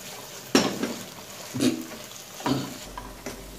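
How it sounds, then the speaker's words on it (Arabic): Spices fry with onion in a pan for a Gulf-style kabsa, giving a soft sizzle broken by three or four distinct scraping stirs of a utensil against the pan, heard close up. "بس هيك بحطها شوي تتقلى مع البصلة مشان تروح تيبيس منها"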